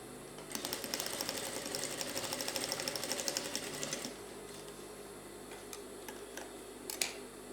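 Domestic sewing machine stitching the side seam of a women's trouser, a fast steady run of needle clatter for about four seconds, then stopping, followed by quieter handling clicks and a brief knock near the end.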